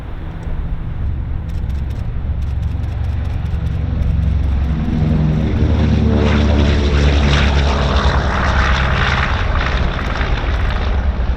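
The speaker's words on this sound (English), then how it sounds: "Boeing B-29 Super Fortress, first flown in 1942," The Boeing B-29 Superfortress Fifi, a World War II bomber first flown in 1942, flies past at an air show, its piston engines and propellers droning loudly and swelling as it nears, with a pitch shift as it passes.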